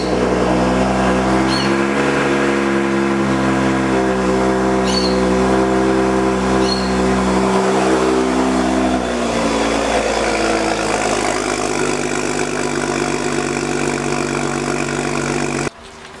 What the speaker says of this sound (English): we're gonna start the vehicle, we're gonna check if there's any errors